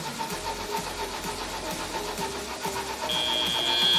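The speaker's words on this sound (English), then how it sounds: "You can hear the motor." A small motor runs steadily throughout, a continuous mid-pitched whir with a rhythmic pulse that grows slightly louder near the end, with a faint high whine joining in.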